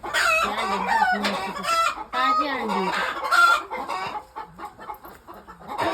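Brooding hens sitting on eggs cluck busily and close by, with overlapping calls from other fowl and a short spoken phrase mixed in.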